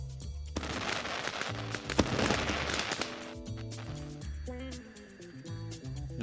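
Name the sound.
iMessage Happy Chinese New Year firecrackers screen effect sound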